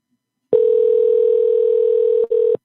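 A steady electronic ringing tone on a phone line sounds for about two seconds, with a brief break near the end.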